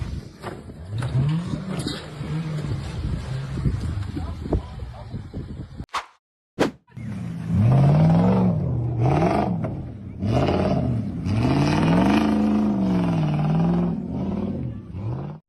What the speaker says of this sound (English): The green SUV model was climbing the sandy slope when it suddenly flipped backward